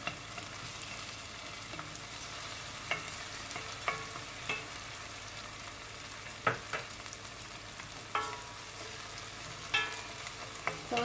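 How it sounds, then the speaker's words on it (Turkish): Homemade pepper paste from a garden fries with onions in a pan, a soft, steady sizzle under scattered stirring clicks and scrapes, with no talking. "Salçamı da iyi kavrulunca asiti gider."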